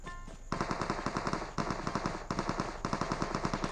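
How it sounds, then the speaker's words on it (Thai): Rapid automatic AKM rifle gunfire in PUBG Mobile, in bursts, loud and close, with short pauses between volleys and a steady rattling rhythm. "มีเสียงยิงกันข้างหน้า เดี๋ยววิ่งเข้าหาเสียงปืนเลยนะครับ"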